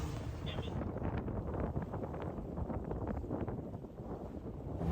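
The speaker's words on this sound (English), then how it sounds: "the wind's picked up like 25 knots, gusting to 30" Strong wind of about 25 knots, gusting to 30, buffets the microphone at sea aboard a sailboat in loud, roaring gusts, with a heavy low rumble throughout and no clear voices.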